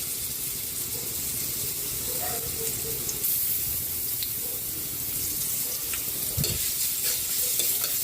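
Garlic sizzling in hot oil in a pan for Filipino ginisang ampalaya, a steady frying hiss with occasional stirring clinks and a brief scrape near the end.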